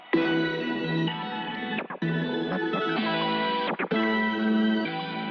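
Sustained synth chords washed in wide, spacious spread reverb with the bass removed, two brief dropouts between phrases and a smeared, lingering tail.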